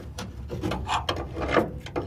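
Old metal is ground off a Ford Ranger leaf spring shackle with close, rough, rasping scrapes in uneven bursts, each stroke a harsh abrasive grind with brief pauses between.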